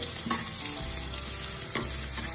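Finely chopped garlic frying in a pan for palak khichdi, a loud close sizzle with a couple of sharp stirring scrapes.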